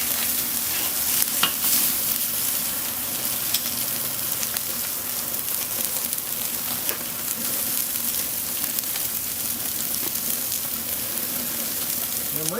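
Steak sizzles with butter on a Weber Gold grill, a steady close crackling hiss with occasional sharper pops, no voices.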